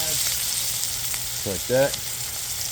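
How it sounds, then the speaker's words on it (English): A chuck roast sears in a pan with a steady, soft sizzle throughout, and a short spoken remark plus a brief clink of handling partway through. "we're gonna just turn on the sides here. Get the sides kind of seared."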